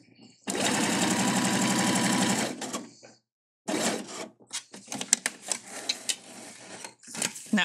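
A Husqvarna Viking Jade 20 domestic sewing machine stitches a line, a fast, loud mechanical whir for about two seconds, followed by a pause and then irregular clicks and short handling noises.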